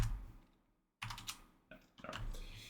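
A programmer types a g++ compile command on a computer keyboard in close bursts of quick clicks, a short pause and then further taps, with no talk.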